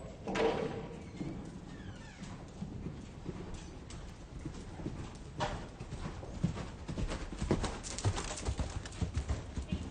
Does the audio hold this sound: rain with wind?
no